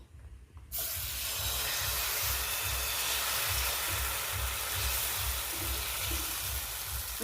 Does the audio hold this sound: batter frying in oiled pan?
yes